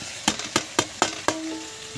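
Fried potatoes tossed into a sizzling goat meat curry over a lit stove, giving five sharp, evenly spaced scraping clatters over a steady frying hiss, the last one followed by a brief ringing tone.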